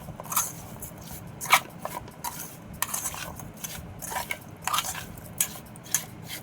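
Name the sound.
hand-mixing amra (hog plum) with sugar and cumin powder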